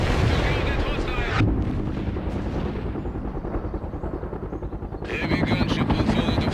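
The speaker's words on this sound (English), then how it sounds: "Heavy attack helicopter is inbound." Heavy attack helicopter gunship in World in Conflict: Soviet Assault roars past with loud, steady rotor thrum, overlaid by bursts of gunfire and explosive booms; the rotor noise dips briefly, then surges back.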